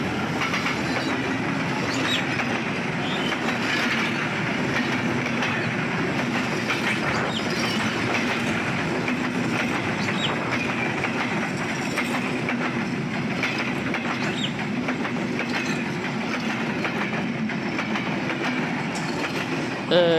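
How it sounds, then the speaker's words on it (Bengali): A train passes close through Panchbibi railway station with a continuous heavy rumble and rhythmic clickety-clack of the wheels, heading toward Joypurhat, loud and steady throughout. "তো একটু দেখতে দেখতে একটা ট্রেন চলে আসলো।"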